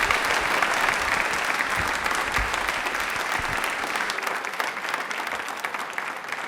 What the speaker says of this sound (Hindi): एक बार तालियां जोरदार बजाए भाई